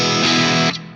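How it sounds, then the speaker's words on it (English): An Ibanez RG653DX electric guitar rings out a sustained chord with a classic rock crunch, loud and close, cutting off sharply after a moment with a brief decaying tail. "Let's go to the in-between tones with that sort of classic rock sort of crunch going on."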